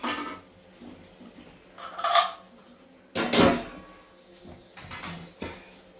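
Boiled tripe, washed and precooked with turmeric and salt, tipped from a vessel into a cooking pot, heard as three separate bursts of metal clanking and scraping with quiet gaps between.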